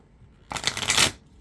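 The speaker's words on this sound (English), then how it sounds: "Just one more shuffle." A deck of tarot cards being shuffled, one close, crisp riffling burst of about three-quarters of a second that swells and then stops, with quiet before and after.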